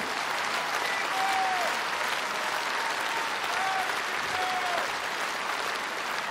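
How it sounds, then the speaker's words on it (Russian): Sustained audience applause fills a large concert hall at a Kremlin accordion concert, a dense steady roar of clapping with a few faint whistles or calls rising above it. "под ваши аплодисменты"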